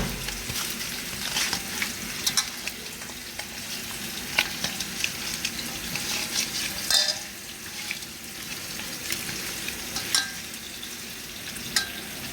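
Fish coated in turmeric and spices sizzles steadily in a hot pan, with scattered sharp clinks and scrapes from stirring over the continuous frying hiss.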